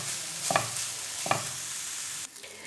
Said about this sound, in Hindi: तो आलूओं को हल्का सा हम सिर्फ 5 मिनट तक फ्राई करेंगे